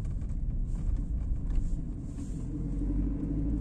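Manual car pulling away in first gear on city streets during a driving-school lesson, a steady low engine rumble and road noise rising gently throughout, close and continuous with no talk.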